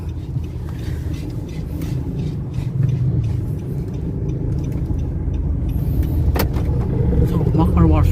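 A Nissan Calibre with throttle delay and a humming transmission on a highway test drive: a steady low engine and road rumble fills the cabin throughout, building slightly toward the end, with faint voices in the background.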